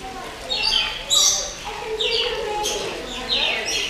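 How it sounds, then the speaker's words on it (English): Bird cooing and chirping up close in short bursts over about four seconds, loud and nearby, as if trying to peck someone. "Stupid bird. Trying to peck you."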